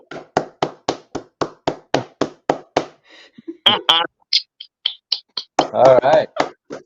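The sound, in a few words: a person clapping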